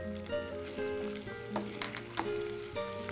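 Garlic and small onions fry steadily in hot oil for a tangy kara kuzhambu curry, a close, continuous sizzle with faint stirring scrapes over a soft tonal hum, no talking.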